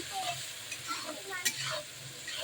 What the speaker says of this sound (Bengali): পেঁয়াজটাকে একটু নেড়ে চেড়ে নেব